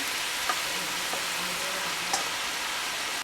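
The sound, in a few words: cooked noodles added to wok, stir-frying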